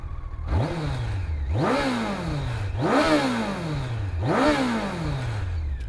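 A warm 2002 Honda CBR1100XX Super Blackbird with a stock exhaust idles and revs, its engine rising in four sharp throttle blips that each sweep up and fall back, loud and close, with no talking.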